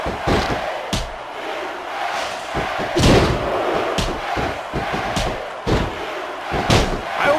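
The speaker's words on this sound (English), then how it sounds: "Now the fans start to cheer for him." A crowd cheers in the WWE SmackDown vs Raw 2006 wrestling video game. A loud, continuous roar is punctuated by heavy slams and thuds from the ring.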